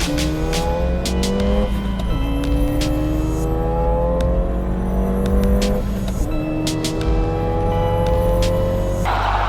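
A Ford car engine tuned to about 199 brake horsepower revs hard and climbs in pitch repeatedly as it shifts up through the gears, loud and close, with a brief tire squeal.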